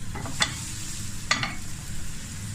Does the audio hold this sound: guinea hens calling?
no